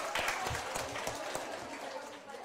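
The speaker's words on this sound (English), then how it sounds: "So big round of applause to everybody." Quiet, distant-sounding clapping from an enthusiastic audience at an infection control workshop, scattered claps under a murmur of voices, fading slightly toward the end.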